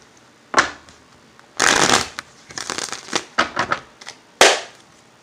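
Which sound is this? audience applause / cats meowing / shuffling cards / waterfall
shuffling cards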